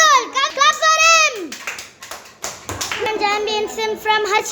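Children clap at a karate championship prize ceremony, a short burst of claps mixed in with kids' voices and talk.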